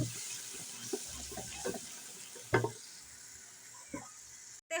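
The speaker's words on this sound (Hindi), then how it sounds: "मसाले को अच्छी तरह से भून लेंगे।" Ground spice paste fries in a pan for a beef and radish bhujiya, a steady low sizzle broken by a few clinks and scrapes from stirring, quiet and close, with no talking.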